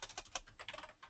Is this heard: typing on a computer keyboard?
yes